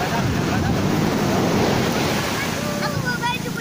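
Ocean surf rolls continuously onto a beach at Tambak Rejo on the south coast of Blitar, big waves giving a loud, steady broadband roar with wind buffeting the microphone and faint voices underneath.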